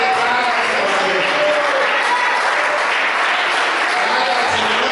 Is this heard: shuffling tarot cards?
no